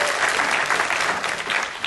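An audience applauds during the introductions at a training course event, producing a dense, continuous wash of clapping at high volume throughout.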